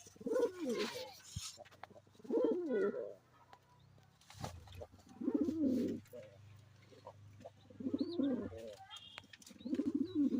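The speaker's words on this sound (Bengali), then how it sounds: "এখানে আমার এক জোড়া হোয়াইট লক্ষার পেয়ার রয়েছে, দেখুন।" Pigeons coo in repeated soft, throaty bursts at a pigeon farm, with pauses between calls and some faint shuffling, quiet and close.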